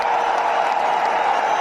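Loud, dense applause from a large crowd at an RCM anniversary event, a continuous wash of clapping with faint cheering mixed in, sustained throughout.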